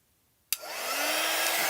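After a moment of silence, a hair dryer switches on abruptly and blows steadily, close and loud, drying chalk paste on a Halloween porch sign.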